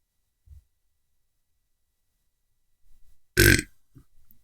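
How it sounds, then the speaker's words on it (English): A single loud, close burp from a man during a live cigar-review stream, a short broad burst standing alone after near silence, with a few faint soft noises around it. "I don't care about burping on my streams, by the way."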